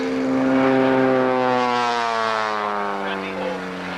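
An aerobatic model airplane driving a three-bladed propeller, giving a steady, droning engine tone that sweeps slightly in pitch as it passes, fairly loud and close, with a voice talking over it.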